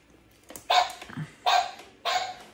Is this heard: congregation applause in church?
no